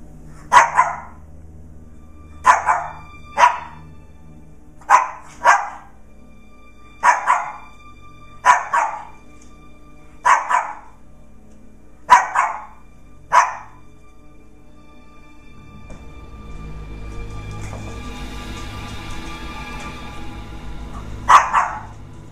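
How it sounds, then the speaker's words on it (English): A dog barks in short bursts, about a dozen sharp barks spaced a second or two apart, close and loud, followed by a low rumbling background and one final bark. "What are you barking at?"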